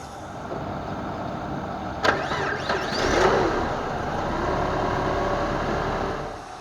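A Chrysler PT Cruiser engine cranks briefly and catches after a jump start, then settles into a steady idle that runs on alone at close range.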